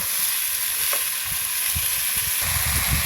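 Rice for a village-style biryani is fried and stirred in a pot, a steady close sizzle running throughout with soft, irregular scraping and shuffling from stirring underneath.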